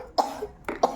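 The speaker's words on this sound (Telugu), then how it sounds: "అబ్బో దగ్గు" Three short, harsh coughs from a person, close by: one sharp burst, then a pause and a quick pair, with no talking.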